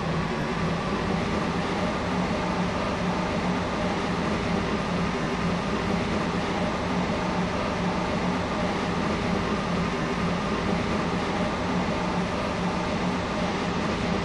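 A Class 377 train ride in a video game, a steady broadband rolling rumble and hiss held at an even level throughout, with no talk.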